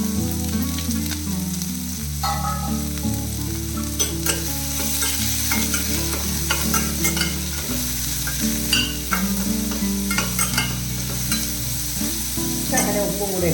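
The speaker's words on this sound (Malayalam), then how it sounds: "ഇനിയിപ്പോൾ നമ്മൾ എടുത്ത് വെച്ചിരിക്കുന്ന ഉള്ളിയും പച്ചമുളക് അരിഞ്ഞുകൊണ്ടല്ലേ അത് ഇട്ട് കൊടുക്കുന്നു." Shallots and green chillies fry with curry leaves in hot oil, crackling and sizzling steadily up close, with stirring scrapes and a sustained tonal backdrop running underneath.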